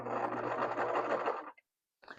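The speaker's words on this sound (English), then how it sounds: "it looks like I am sewing it down" A sewing machine stitches down fluffy fabric on a toy being turned into Disney ears, running in a steady mechanical whir for about a second and a half before stopping, then briefly starting again.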